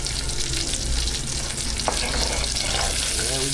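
Sausage pieces going into peppers already cooking in pork fat, a steady broadband frying sizzle with a few stirring scrapes, loud and close, no talking.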